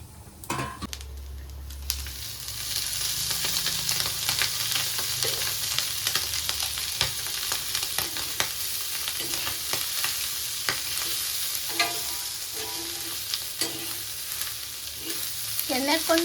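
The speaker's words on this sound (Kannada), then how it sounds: "ಇವಾಗ ನಾವು ಉಳ್ಳಾಗಡ್ಡಿ ಹುರಿತಾ ಇದ್ದೇವೆ" Onions fry in hot oil in a pan for a boti fry, a steady loud sizzle broken by repeated scraping stirs of a utensil, with faint clinks, and no one talking.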